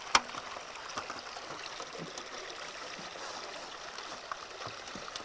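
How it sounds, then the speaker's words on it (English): Water rushes steadily over a natural rapids drop in a stream, a faint, even outdoor wash with an occasional small splash or knock, no voices. "Here we have a natural rapids here that's already formed a nice drop in the water flow for us."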